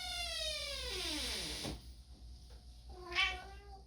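A toy or doll cat meowing: a long wavering, falling meow fills most of the span, followed by a shorter rising meow near the end, close and clear, with no talking.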